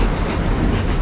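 A train at a theme park rumbles past nearby with a steady, continuous roll and faint rhythmic clatter of wheels, with no talk over it.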